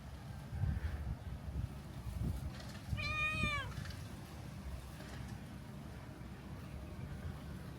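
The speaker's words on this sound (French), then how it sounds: "Ah, elle est enceinte, ouais. C'est une femelle. Miaou miaou." A pregnant female cat gives a single short meow with a rising-then-falling pitch, fairly faint against a low outdoor rumble of background noise.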